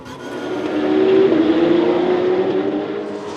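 A race car, one of the Porsches or Ferraris in a circuit race at Paul Ricard, roars past loud and close, its engine note rising and swelling then easing off, with no talk.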